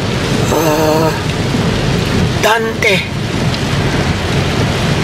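Heavy, unrelenting typhoon rain pours down in Oriental Mindoro as loud, dense hiss, with a brief crack of thunder in the middle and a voice speaking briefly over the downpour.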